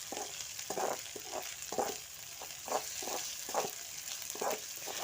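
Garlic paste fries in a pan with a soft, low sizzle while a spatula stirs it in a steady rhythm of short scraping pushes, close but quiet.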